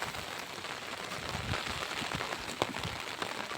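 Rain falls steadily during a cool monsoon spell outdoors in a village, a soft continuous patter with a few sharper drops on a nearby surface, and no talking.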